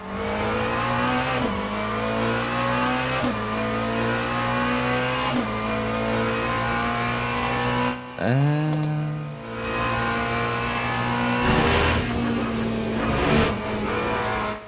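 A GT3 race car engine in the racing video game Le Mans Ultimate drones at high revs with stepped gear shifts and a sharp rev dip midway, continuous and loud throughout.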